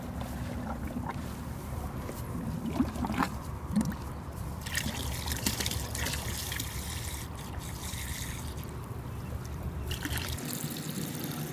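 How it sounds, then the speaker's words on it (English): Water trickles and pours into a horse's water bucket in a barn, a faint, steady running splash with occasional louder sloshes, no talk. "We're just filling up his water bucket."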